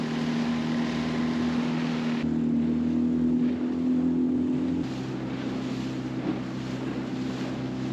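A small dinghy motors out past breaking waves off an island, its outboard engine droning steadily under heavy wind buffeting, the pitch shifting partway through.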